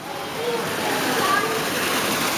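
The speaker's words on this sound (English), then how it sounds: "Ooh, waterfall." An indoor rainforest exhibit waterfall pours in a steady, loud wash of falling water, filling the short stretch evenly with no pauses.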